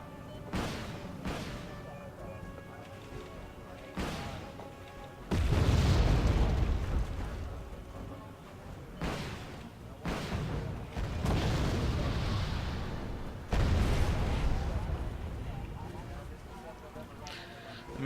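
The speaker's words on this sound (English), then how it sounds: "Napalm gets dropped on the forest. Quite a lot of napalm." Napalm dropped over a forest in the strategy game Wargame Airland Battle erupts in repeated heavy booming blasts with broad rumbling roars, several loud bursts spaced across the span over a constant battle din, with a voice talking intermittently.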